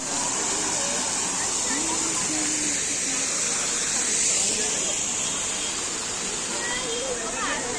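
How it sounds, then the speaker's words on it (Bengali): A waterfall at Nandankanan near Puri pours as a loud, steady broadband rush that fills the whole stretch, with faint voices mixed underneath. "ঝর্ণাটা খুব সুন্দর।"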